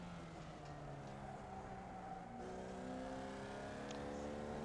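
A Formula Vee race car engine in the iRacing game drones steadily at moderate pitch, with gear-change shifts partway through and a faint, even level.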